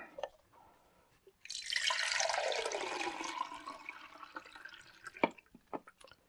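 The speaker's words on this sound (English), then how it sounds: "so let's pour off the fixer" Liquid fixer poured out of a film developing tank: a steady broadband splashing gush of about four seconds, then trailing drips and small clinks, close and alone.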